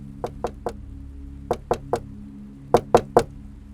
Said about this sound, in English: The knocking continued, getting more insistent.